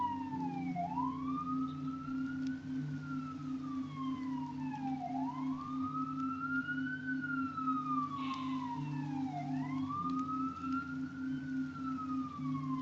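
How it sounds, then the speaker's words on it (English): Emergency vehicle sirens heard from a high-floor apartment in the city: a rising and falling wail that sweeps slowly up and down in repeated cycles, steady and fairly distant over a constant low engine and traffic drone. "Let's just wait for the sirens to go by."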